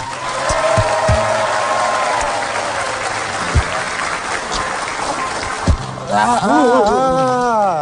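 Studio audience on an Indonesian TV talk show applauding loudly for several seconds in a dense, continuous roar, tapering as voices resume and talk over the end.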